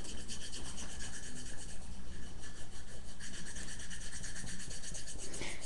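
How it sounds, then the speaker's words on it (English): An eraser rubbing out a pencil sketch on a painting surface, a continuous close scratchy friction sound of steady back-and-forth strokes with no voices. "see if I can rub it out a bit more"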